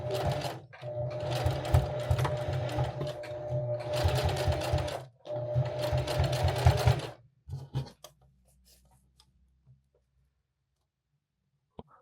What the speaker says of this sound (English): we'll just start sewing all along the edge.